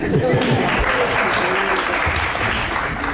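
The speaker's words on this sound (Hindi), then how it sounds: "जनता के तालियां सुन के" A television studio audience breaks into steady, dense applause that fills the whole short stretch at an even level.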